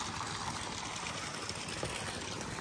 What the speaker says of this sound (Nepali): पानी पानी आउँदैछ.